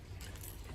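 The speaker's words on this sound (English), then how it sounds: "One here is a sort of rattly crankbait called the Svartsonker" A rattly Svartsonker crankbait fishing lure is shaken close by, giving a brief, faint, continuous jangling rattle with no speech.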